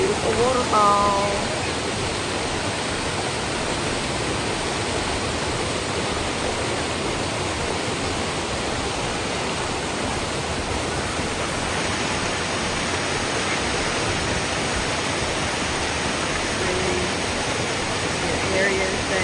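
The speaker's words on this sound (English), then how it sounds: "here, the beautiful waterfall." Steady, loud rushing roar of a waterfall at a state park in the North Georgia mountains, broadband and constant throughout with no pauses, a brief voice audible near the start.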